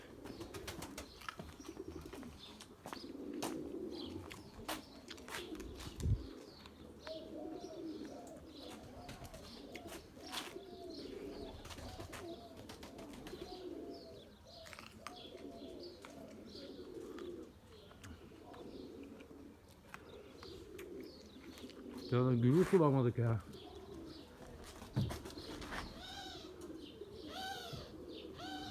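Turtle doves coo repeatedly in soft, low hooting phrases amid other chirping birds outdoors, with a brief louder burst of activity near the end.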